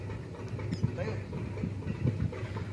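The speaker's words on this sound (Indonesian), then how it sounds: "Oh, mesin sudah disetat." The engine of a jukung motorboat loaded with coconuts runs with a low, steady chugging drone close by, while people talk over it.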